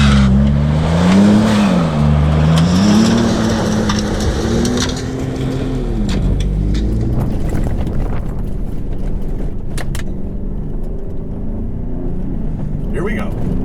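A tuned 600 hp Ford Raptor pickup truck engine revs and rumbles loudly, then settles into a steady driving drone with road noise and a few knocks.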